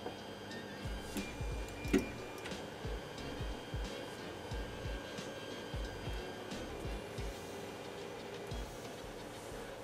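A CR10 3D printer homes its axes, with steady stepper-motor whirring and rhythmic ticking pulses running throughout, faint and close, with one brief louder click near the start.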